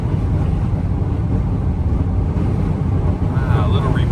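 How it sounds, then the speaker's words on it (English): Strong gusts of about 50 mph buffet a driving van with a 96-horsepower engine on an Alaska road, a constant close roaring rush of wind noise with a faint voice near the end. "It's only about 50 mile an hour winds back here."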